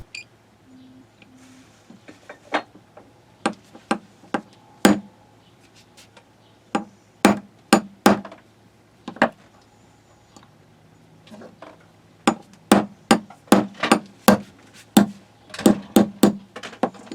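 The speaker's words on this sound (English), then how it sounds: "I would try to tap it out just enough to release the firing pin." A hammer taps a pin out of a Tikka T1x rifle bolt in a series of sharp, close metallic knocks, sparse at first and then coming in quicker clusters, with quiet gaps between and no talk.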